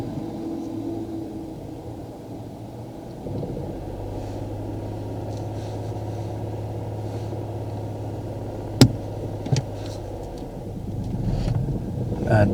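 A car pulls away during a driving lesson, its engine giving a low, steady hum that rises slightly as it moves off, close by with light wind noise and a couple of brief knocks near the end.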